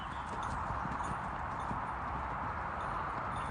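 Horses walk on a farm, hooves clip-clopping in a steady, moderately close rhythm over faint background noise.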